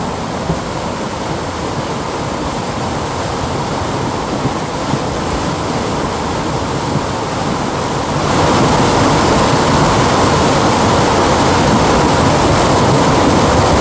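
A flooding river rushing with floodwater, a loud, dense, continuous roar that swells even louder partway through and never lets up.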